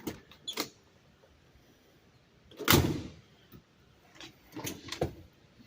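A 1957 Cadillac Brougham car door shuts with a solid, heavy thud, preceded and followed by a few lighter clicks and handling sounds, fairly close and with no talking.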